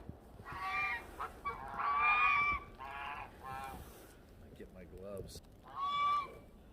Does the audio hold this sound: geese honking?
yes